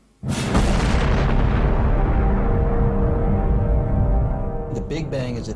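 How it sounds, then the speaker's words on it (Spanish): A deep, sustained boom rolls in abruptly and rumbles on for several seconds, a loud cinematic explosion effect representing the Big Bang, with a few brighter tones flickering near the end. "Empecemos con una gran explosión."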